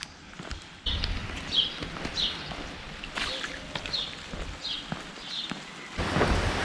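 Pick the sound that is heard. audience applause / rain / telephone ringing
rain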